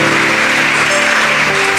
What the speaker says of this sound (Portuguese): Dê um aplauso a Jesus aí